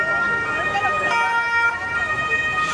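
An emergency vehicle siren wails on a street in Rome, a loud, steady tonal howl close by with faint traffic underneath.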